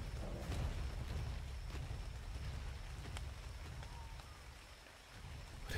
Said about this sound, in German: Der Regen ist ganz schön krass.